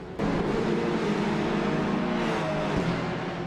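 A loud Mercedes race car engine in Assetto Corsa EVO starts abruptly and holds a steady, buzzing drone with a slight rise in pitch, running without pause.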